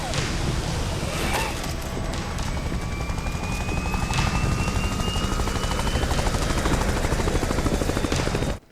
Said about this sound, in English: The helicopter's not going to land?